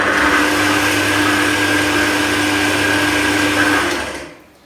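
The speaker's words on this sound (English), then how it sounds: "I am going to whisk this for 4 minutes until it's creamy." An electric whisk beats cake batter with vanilla for an apple cake. Its steady motor whir holds loud and close, then winds down and stops near the end.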